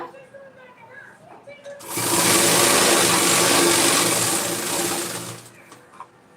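A sewing machine stitches a saree petticoat in one loud, fast, continuous whirring run of about three and a half seconds that then winds down, with quiet handling sounds before and after.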